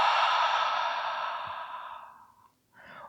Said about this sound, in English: And full exhale through the open mouth.